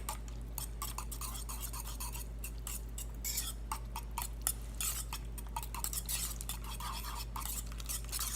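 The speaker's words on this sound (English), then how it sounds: "So this you whisk together, and it's very, very thick" A whisk scraping and clinking through very thick vegan cornbread batter in a bowl, making a steady run of close, quiet ticks and scrapes over a constant low hum.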